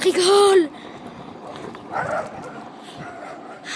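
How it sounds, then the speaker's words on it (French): A single short, high-pitched bark from a small dog, followed by quiet background noise and faint distant sounds. "Un petit chien de merde."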